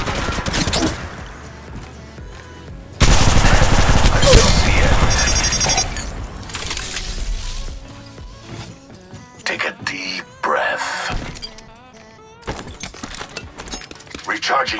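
Gunfire in the video game Apex Legends, played as Octane: loud bursts of rapid weapon fire with booms and shattering impacts, broken by quieter gaps of game effects, with a voice talking throughout.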